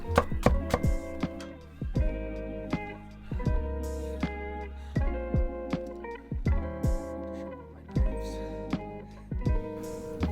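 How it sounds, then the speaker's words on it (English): A knife chopping onions on a cutting board gives a quick series of sharp, close taps in uneven bursts, with steady music playing underneath. "make sure your knives are sharp when you're cutting onions"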